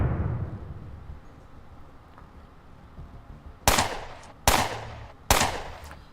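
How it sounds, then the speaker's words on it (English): Three sharp gunshots in the Underrail video game, evenly spaced and loud, each a hard crack with a short decaying tail, following a few seconds of quiet low background hum. "I'm going to shoot it to death."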